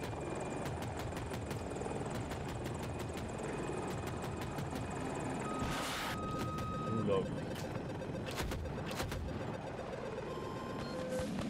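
A KA-520 Super Hokum attack helicopter from a first-person shooter game on the Hourglass map drones steadily, with rotor thrum and engine whine running continuously. Gunfire crackles and impact clicks are scattered across it.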